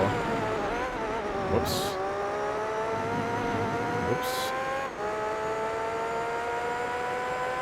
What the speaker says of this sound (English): This definitely has that, like, higher pitch open wheel car sound for sure